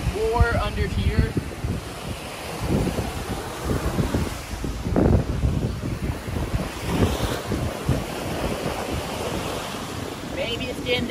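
Ocean waves wash over the rocks of a beach at Blowing Rocks Preserve as the tide rises, a loud continuous roar of surf and rushing water with wind buffeting close by and brief voices.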